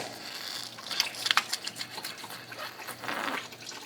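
Coolant trickling and hissing from a loosened hose on a Jeep Cherokee, a soft watery splatter with a short burst of sharper drips, close and fairly quiet with no speech.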